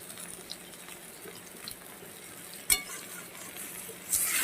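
Katla fish curry with taro root and potato cooks in a pan as salt and turmeric go in, giving a soft, steady sizzle with faint stirring scrapes and a sharp clink partway through.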